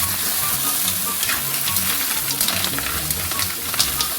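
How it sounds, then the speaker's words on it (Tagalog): Green shell mussels being stirred into a pot of tinola soup, a steady sizzling bubble with scattered clinks and scrapes of the spoon throughout, close and fairly loud. "Siyempre, haluin natin."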